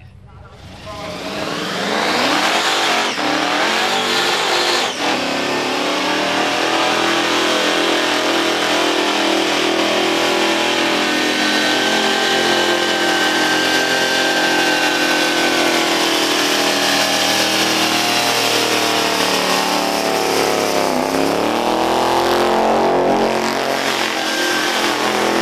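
A loud drag racing car engine with a Powerglide transmission revs hard and holds a sustained, harmonic-rich roar for most of the run, close and dominant, after a brief quiet start.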